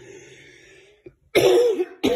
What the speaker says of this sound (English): my cold's still making me cough my head off